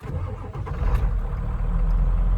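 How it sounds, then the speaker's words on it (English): A diesel engine, likely in a truck, cranks and catches, then settles into a loud, steady, deep rumbling idle close by, with no talking. "I love hearing a diesel start."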